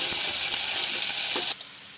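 Wheat flour dough balls tipped into hot oil with spluttering mustard seeds, a loud steady sizzle with scattered pops and scraping, cutting off abruptly near the end.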